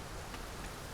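Steady rain falls in the video game Dragon's Dogma 2, a soft, even hiss of drops that stays constant and fairly faint throughout, with no voices.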